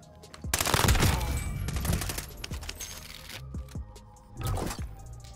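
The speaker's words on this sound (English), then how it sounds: "I'm under fire." Bursts of automatic gunfire in a video game firefight ring out close and sharp, a heavy volley early, then scattered shots and a final burst, faint background sounds between.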